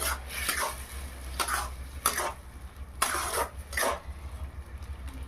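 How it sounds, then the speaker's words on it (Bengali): Mustard, poppy seed and green chili paste gets stirred and scraped in a pan, giving several short, fairly close scraping strokes at an uneven rhythm over a steady low hum, with no talking. "সর্ষে পোস্ত কাঁচা লঙ্কা বাটা একটু ভালোভাবে নেড়ে টেনে নিলাম"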